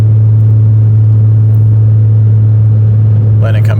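Audi fitted with CanAuto headers and resonated mid-pipes, heard from inside the cabin: a loud, steady low exhaust drone at cruise with constant rumble throughout, a voice briefly audible near the end.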